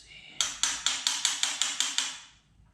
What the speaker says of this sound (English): Kind of a big chisel for the job, but let's just see.